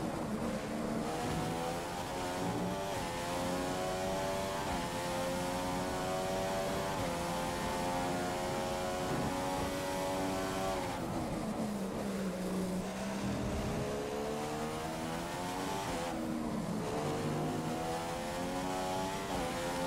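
Formula 1 race car engine in the F1 2016 game at the Australian Grand Prix, a loud continuous high-pitched whine rising and falling through upshifts, with a brief dip near the middle, and no talk.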